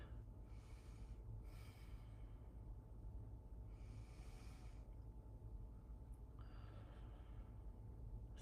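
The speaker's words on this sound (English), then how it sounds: "let's just take 3 breaths in and out" Three slow, deep breaths in and out during a calm morning breathing exercise, soft airy inhales and exhales rising and falling over a steady low background hum, close and quiet with no talking.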